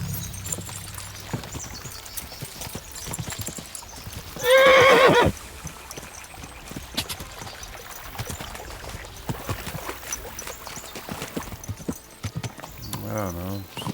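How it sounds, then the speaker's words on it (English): Rapid clip-clopping hooves of galloping horses in Kingdom Come: Deliverance 2, with a loud, brief whinny partway through, set in busy game sound with talk layered over it. "We'll give the horses a gallop again."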